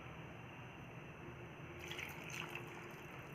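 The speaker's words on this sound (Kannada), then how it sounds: "1 ಲೋಟ ನೀರು ಹಾಕಿದ್ದೀನಿ" A glassful of water goes into a pot of dal seasoned with cumin and turmeric, a soft steady pour that swells near the end and runs alone without voices.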